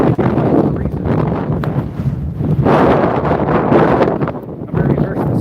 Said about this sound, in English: And it's windy, so sorry about that.